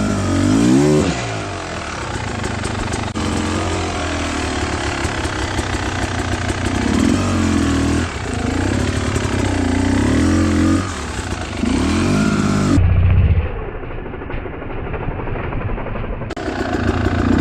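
Beta Xtrainer 300 enduro motorcycle ridden hard over rocky hard enduro terrain at Twin Hills, engine loud and close throughout, revving and blipping continuously with surges and brief drops in pitch, no talking.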